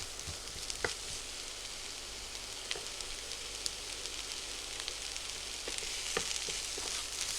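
Onions softening in a frying pan, a soft, even sizzle with scattered small pops and crackles, fairly quiet and close, with no talking.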